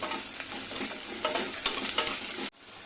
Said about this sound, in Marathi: एक चमचा तेल गरम करत ठेवले त्याच्यामध्ये एक मोठ्या साईजचा कांदा उभा चिरून घेतलाय तो आपल्याला छान लालसर रंगावरती परतून घ्यायचंय